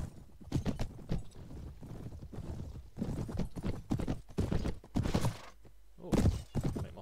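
Hooves of a horse in the Clash of Kings strategy game clip-clop in quick bursts as the mount gallops and leaps, thudding over a busy game soundtrack.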